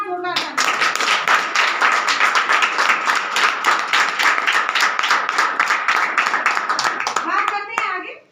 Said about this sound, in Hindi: तो उनके लिए एक बार जोरदार तालियां।